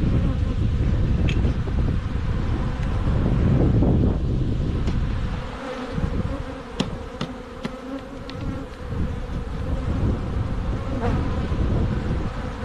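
Honeybees buzzing around an open hive during queen-rearing work with a double-queen colony, a dense close drone that swells and dips with some wind noise and a few sharp clicks, no talk.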